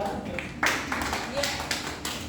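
A classroom of students applauds for a classmate, a short burst of scattered clapping mixed with voices talking over it.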